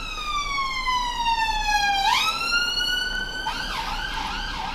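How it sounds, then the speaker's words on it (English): An ambulance siren wails nearby, sweeping down and back up in pitch before switching to a faster warbling pattern, loud and continuous. "That was an ambulance."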